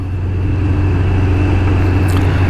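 A 1994 Kawasaki Ninja ZX11 (ZZR1100) sport motorcycle engine runs loud and close, holding a steady, gritty drone throughout without any clear rise or fall.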